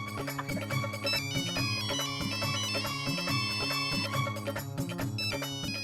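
A mobile phone rings with a bright, repeating electronic melody, playing loud and steady throughout with no talking over it.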